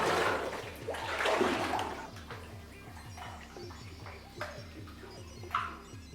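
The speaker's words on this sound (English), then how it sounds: "We're just making our way in the water here." Someone wades through a rocky creek, and splashing and sloshing water rise and fall at close range over a low rhythmic mechanical hum.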